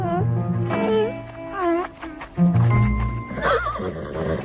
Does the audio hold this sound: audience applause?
no